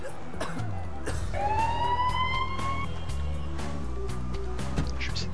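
An emergency vehicle siren in the Emergency 4 game, on a Barcelona mod map, rises and sweeps clearly for a couple of seconds over a busy background of engine hum and clicks.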